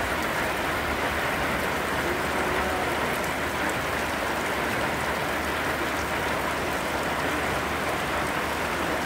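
Heavy rain pours down steadily with a dense, unbroken hiss, loud and close throughout, with no voices heard.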